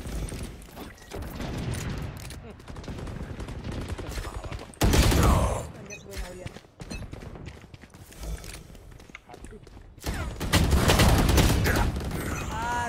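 Vandal rifle spray gunfire in a video game comes in rapid loud bursts, one around the middle and a longer stretch near the end, with quieter game noise between.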